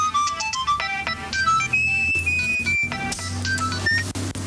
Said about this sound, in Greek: Το τηλέφωνο σου.